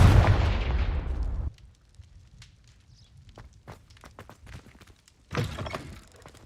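A Confringo fire blast spell in the Hogwarts Legacy video game: a loud fiery burst at the start that cuts off abruptly, then quiet scattered thuds and steps before another short blast near the end.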